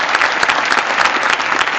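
Loud, dense audience applause at a Secur Life Vijay Utsav event in Kanpur, steady clapping from a large crowd throughout without letting up.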